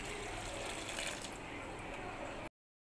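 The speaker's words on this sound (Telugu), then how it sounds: "1 గ్లాస్ వాటర్ పోసి చింతపండు నానబెట్టుకోవాలి." Water pours from a glass over tamarind in a bowl, a short steady splashing gush lasting a couple of seconds up close before cutting off.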